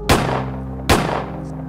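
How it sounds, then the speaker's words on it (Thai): Two loud, booming gunshots fired as a sound effect in a spooky ghost story, spaced under a second apart, each a sharp blast with a rumbling tail over a low steady drone, no speech. "เสียงปืนดังเปรี้ยงขึ้นอีกครั้ง"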